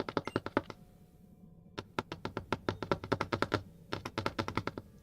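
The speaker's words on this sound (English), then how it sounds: "It's me typing on the computer." Fingers type on a computer keyboard in quick close bursts of clicky keystrokes, with one short pause between the runs.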